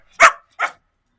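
A dog barks on command, two short, loud, close barks separated by a brief pause, with silence around them.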